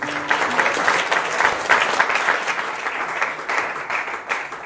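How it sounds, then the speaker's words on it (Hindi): Studio audience clapping to welcome a guest onto a Hindi talk show, a dense, steady round of applause lasting several seconds with no talk over it. "तालियों से स्वागत करें"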